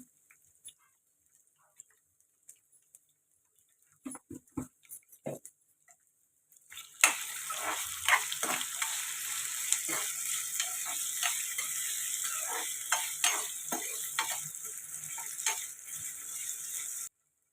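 Carrot and potato pieces frying in a pan: scattered clinks and scrapes at first, then a steady hiss of frying starts and continues loud and even, with occasional utensil knocks over it.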